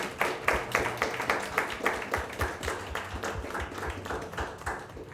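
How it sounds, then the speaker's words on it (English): An audience at a Black founders in tech panel applauds the panelists, a steady, close patter of many hands clapping throughout. "Round of applause for all these guys"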